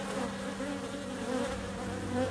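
Honey bees buzz steadily around an open beehive during an inspection after a hard winter, a dense, continuous close drone with no pauses.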